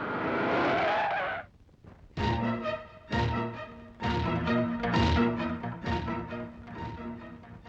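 A car skids to a halt with a loud tire screech lasting about a second, then quiet, followed by a run of rhythmic, harmonic, music-like bursts.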